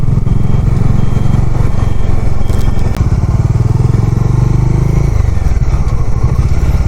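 A motorcycle engine idles and putters loudly at a toll gate on the Yamuna Expressway, its rapid, steady rhythm close and continuous with occasional clatter.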